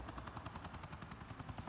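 Rapid, rhythmic thumping of helicopter rotor blades in the video game Batman: The Enemy Within, steady and close, with no other sounds.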